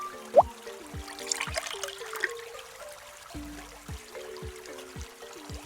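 Water trickles and pours from a dinosaur egg into a hole in an animated game, a soft splashing stream running beneath bright musical tones and light thumps.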